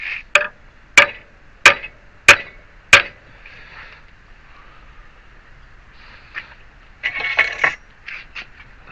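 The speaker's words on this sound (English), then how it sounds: "When in doubt, use a bigger hammer." Metal parts on a DIY wind generator struck with a bigger hammer: five sharp, ringing blows at a steady beat, close and loud, then quieter clinks and scraping.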